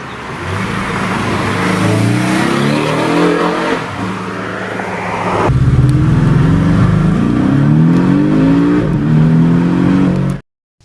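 Close and loud, a Porsche 718 Cayman GT4 RS engine revs hard through rising and falling pitch sweeps. It shifts and climbs again before cutting off abruptly.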